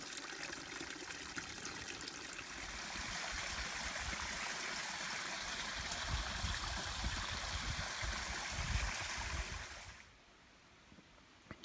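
A small stream trickling along the Appalachian Trail near Standing Indian, a steady, close babble of running water that swells a little midway, then drops away abruptly near the end.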